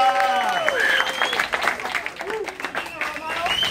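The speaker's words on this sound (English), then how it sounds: "So let's give him a really big round of applause." An audience applauds a student named Jose, with bursts of clapping mixed with cheering and whooping voices, fluctuating in loudness across the moment.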